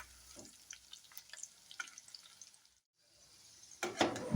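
Homemade pakoda fritters frying in hot oil, a quiet, uneven crackle and sizzle with scattered pops, ending in a louder burst of spattering.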